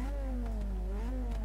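Toyota AE86 Sprinter Trueno engine in Forza 6 revving steadily, a sustained droning engine tone with wavering pitch that dips and rises again, heard alone.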